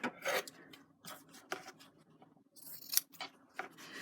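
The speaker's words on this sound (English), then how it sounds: "And so we'll get my fabric scissors." Fabric scissors make a series of close, crisp snips and slicing cuts, with short quiet pauses between them.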